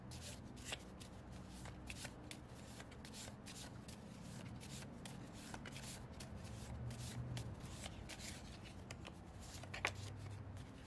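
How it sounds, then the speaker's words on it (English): Tarot cards shuffled and pulled by hand during a reading, a steady soft riffling and slapping of cards that runs close and quiet throughout, with no talking. "so let's pull a couple more cards here"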